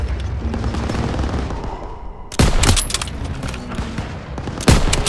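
Machine gun fire in the World War II shooter Call of Duty: WWII, a dense, loud stream of automatic bursts with sharp cracks layered over a constant battle din.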